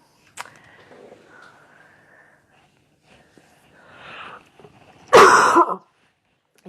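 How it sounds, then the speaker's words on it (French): A single person gives a short throat-clearing sound early, then after a few quiet seconds lets out one loud, harsh cough near the microphone, with faint voice sounds between. "la toux me gagne"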